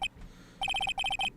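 Telephone ringing in the Phoenix Wright Ace Attorney video game: an electronic ring made of rapid repeated beep pulses in two quick trains, close and clear, with no talk.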